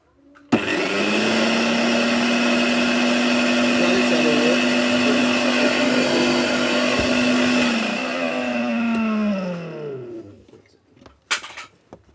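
A homemade mixer grinder motor whirs loudly and steadily for about nine seconds with a strong hum, then winds down and stops, leaving a few faint knocks near the end.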